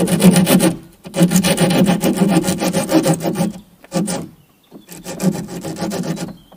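A Japanese hand saw rasps through wood in quick back-and-forth strokes, three bursts of cutting separated by short pauses, close and loud.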